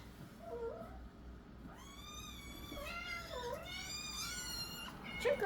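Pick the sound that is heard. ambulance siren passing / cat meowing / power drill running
cat meowing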